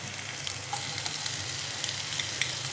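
Bell pepper and ginger-garlic-chili paste frying with onions in a pan for a hotel-style paneer dish, a continuous close hissing sizzle with faint stirring clicks and no talking.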